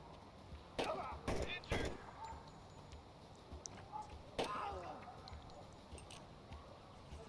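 DMR rifle shots at suicide bombers in the video game Door Kickers 2: three sharp, quick cracks, then a single later shot. All are faint and come with a voice talking.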